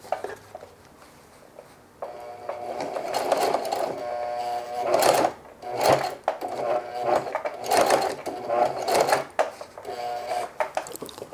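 Sewing machine hemming denim jeans, running in repeated bursts of rapid mechanical stitching with short pauses between them, close and fairly loud.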